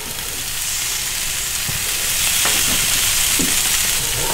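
Fallow deer loin sizzles loudly and continuously on a hot gas grill, a close, steady crackling hiss that swells as the meat settles on the grate, with no talking.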